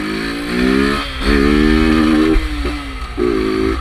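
Small motorcycle engine revving hard in bursts, a loud, close, buzzing drone that rises, dips and surges again with the throttle, no speech over it.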